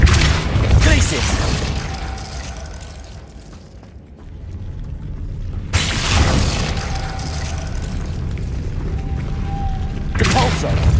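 Glacius freezing spells cast in Hogwarts Legacy amid combat: two loud crackling, hissing bursts several seconds apart, each with a heavy booming impact, over a steady rumbling battle background, with a third burst starting at the end.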